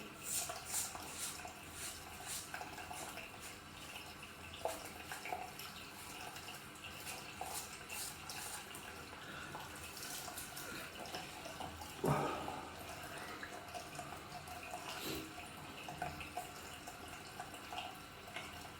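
A razor is rinsed under a running tap, giving a steady faint water hiss with small clicks and knocks of the razor against the sink, plus a brief louder splash partway through.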